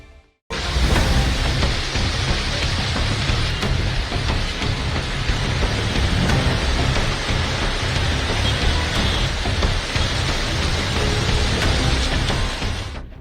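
Heavy monsoon rain in Pune pours down as a loud, steady roar of dense rainfall that starts abruptly and continues unbroken for the whole stretch.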